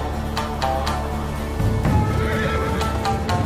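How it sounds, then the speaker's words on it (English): Horses neigh and whinny loudly several times, with hooves clopping and low rumbling in the background. "Oh, horses."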